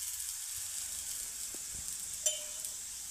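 Oil sizzles softly in a pan as a methi aloo paratha fries, a steady faint hiss with a couple of small crackles and no talking.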